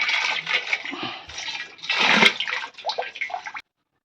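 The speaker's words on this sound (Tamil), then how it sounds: "இது இன்னொரு பேரலில் ஊற்றுறேன்." Jaggery water poured from one barrel into another for an EM-1 liquid fertiliser mix, a steady splashing pour that swells and fades over about three and a half seconds, then stops.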